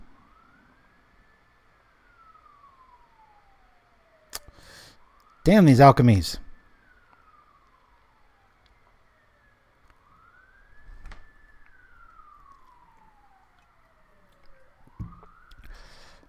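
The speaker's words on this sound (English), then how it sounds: "sorry for the sirens" Emergency vehicle sirens wail outside in rising and falling sweeps, distant and moderately faint, recurring through the stretch while a voice briefly speaks over them.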